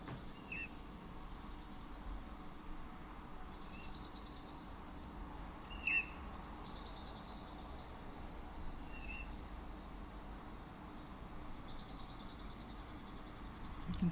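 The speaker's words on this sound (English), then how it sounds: "You can hear the Cape glossy starling chirping away" A Cape glossy starling gives short, faint chirps at intervals from some distance at a waterhole, set against a steady hiss of quiet outdoor background.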